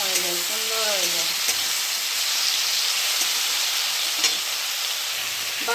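Spices and onion frying in a pan for a Bengali potato curry, a steady close sizzle and hiss that runs the whole time, with brief stirring scrapes and a faint voice near the start.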